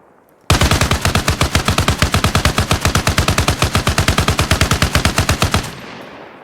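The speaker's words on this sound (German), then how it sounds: "bemanne das schwere Maschinengewehr" A heavy machine gun in the Arma Reforger video game fires one long, loud, steady burst of rapid, evenly spaced shots that stops abruptly, leaving a short fading echo.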